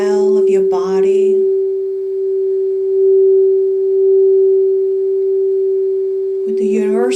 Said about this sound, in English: as we enter the sound of the crystal bowl